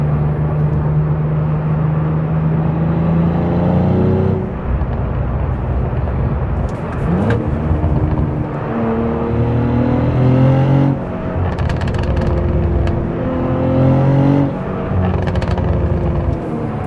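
A Cadillac CT4-V Blackwing engine revs and accelerates in several surging pulls, the pitch climbing then dropping between gear shifts, heard from close by inside the car.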